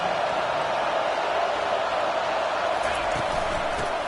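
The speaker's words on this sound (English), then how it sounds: "Listen to this crowd just shaking the girders of this place trying to help their defense." A stadium crowd roars steadily throughout a college football video game, a dense, continuous wash of cheering noise at moderate level with no distinct peaks.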